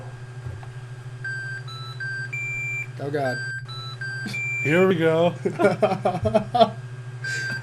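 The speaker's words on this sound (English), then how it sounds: "It's gonna start beeping a whole lot more now." A series of short electronic beeps at shifting pitches, like a little tune, over a steady hum, with people talking and reacting over it.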